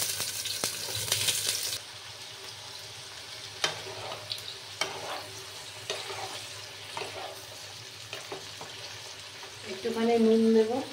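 Ridge gourd frying in about three spoons of oil, with a soft sizzle, intermittent spoon stirs and scrapes, and a louder burst of sizzling near the end.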